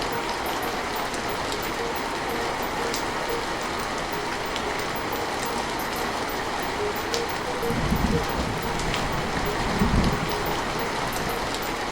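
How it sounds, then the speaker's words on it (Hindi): Heavy rain pours in a dense, continuous hiss for the whole stretch, with a few low rumbling swells partway through. "बारिश बहुत तेज है।"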